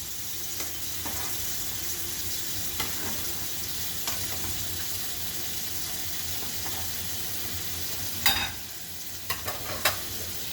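Shrimp and chicken soup stirred in a pot, giving a constant hissing bubble with faint scrapes of a spoon, and a few louder clinks near the end, close by.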